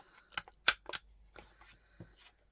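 Scissors snip feathery bits off the edge of card paper in a handful of quick, crisp cuts, a couple louder than the rest, close and quiet with no talking.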